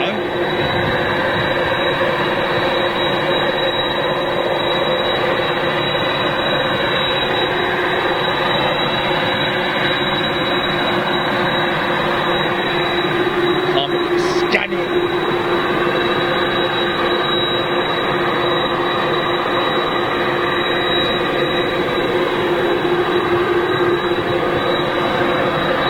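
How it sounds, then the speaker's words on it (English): Boeing 747 jet airliner at Manchester Airport, a loud, steady engine roar that holds for the whole stretch with a brief sharper swell partway through, with voices talking over it. "this is possibly a 747 going to China for maintenance"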